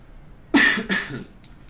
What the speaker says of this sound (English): I've had this cough for a week, it sucks.